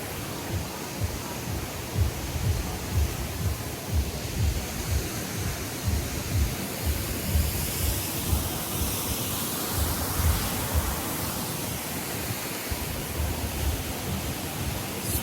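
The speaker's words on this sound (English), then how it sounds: "So behind me is this really pretty waterfall feature." A decorative waterfall feature at a Disney resort spa near a beach area, giving a continuous broadband rush of falling water, steady and fairly close, with no voices over it.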